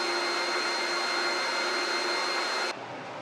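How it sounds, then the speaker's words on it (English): Sandpaper pressed against a wooden acorn spinning on a wood lathe gives a loud, steady broadband whir with a faint motor hum, running evenly for nearly three seconds before dropping off sharply as the paper lifts away. "Go ahead and sand that down"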